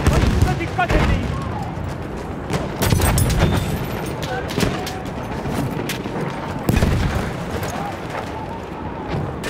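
A grenade goes off during a Battlefield 1 Conquest match: heavy booms and explosions punctuate rattling gunfire, with several loud blasts spaced across the stretch and a voice speaking briefly.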